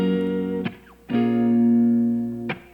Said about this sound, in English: One of my favorite guitar samples.